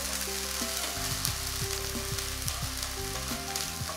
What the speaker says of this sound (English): Just fry it for a minute or so.